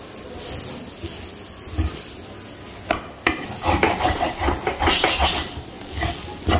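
Fresh grated coconut and peas being sautéed in a pan as a filling for matar karanji: close, continuous scraping and stirring with a light sizzle, growing busier and louder in the second half, with no talk.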